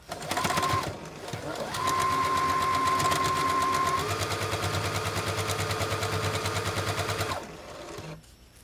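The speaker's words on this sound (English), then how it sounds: "the tulle goes on top, and you go ahead and sew" A sewing machine stitching tulle onto ribbon trim for a tutu runs in a steady whirring burst with a fast rhythmic needle chatter, pausing briefly near the start, then slowing and stopping near the end.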